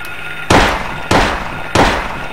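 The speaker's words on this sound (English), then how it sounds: "Effective range of the handgun right in front of you. I just did like 6 shots there." Three loud handgun shots fired in the survival horror video game Silent Hill, sharp broadband bangs spaced about half a second apart with short decaying tails, no talk over them.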